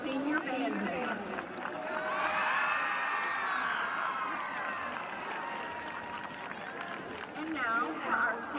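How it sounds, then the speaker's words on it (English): Crowd applause and cheering for the Searcy High School senior band members at a high school football game, a broad, sustained roar of clapping and voices in the stands that swells and then tapers under a public-address announcer. "Please give a round of applause for the Searcy High School senior band members"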